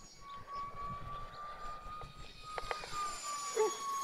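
A Cheetah model jet powered by twin 30 mm electric ducted fans whines high overhead in a steady, thin tone that shifts slightly in pitch as it passes at a distance outdoors.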